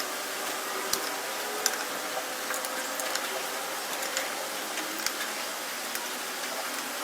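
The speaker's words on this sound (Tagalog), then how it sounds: "ito yung gagamitin natin na panghigpit dito sa maliit na bolt na to" An open wrench tightening a small bolt on a clutch conversion kit for a Honda XRM 125 carb motorcycle, a few sharp metallic clicks and taps scattered over a quiet hiss, close and fairly soft.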